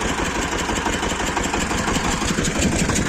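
A universal motor cultivator with hedgehog weeders chugs steadily while hilling potatoes, its mid-pitched engine running loud and close without a break.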